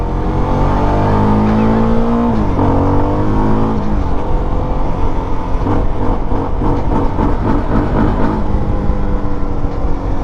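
A 2025 CFMOTO 300SS motorcycle engine runs hard during rough break-in riding, loud and close, its steady drone sweeping up and down in pitch through gear changes and revs, with no talk over it.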